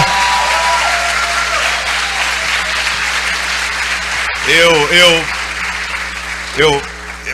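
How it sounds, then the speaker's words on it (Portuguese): A church congregation applauds in sustained, loud clapping, while a voice speaks and sings over it in the second half. "Dê um aplauso ao Senhor por esse lugar, por essa conquista."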